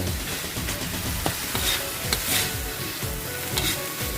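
Salted beef and holy basil stir-fry with chili paste in a hot pan, with steady loud sizzling and repeated scraping stirs of a spatula throughout, alone with no voices.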